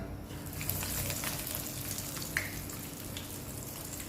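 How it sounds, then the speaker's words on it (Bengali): Shrimp and lentil fritters fry in hot oil, a quiet, steady, even sizzle with a faint clink partway through. "তেলটা গরম হয়ে গেছে এখন এর ভিতরে আমি আস্তে আস্তে ডালের বড়াগুলো সুন্দর করে দিয়ে দেব"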